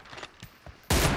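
A short PUBG mobile team match moment: faint scattered game gunfire pops, then a sudden loud sustained burst of automatic weapon fire near the end.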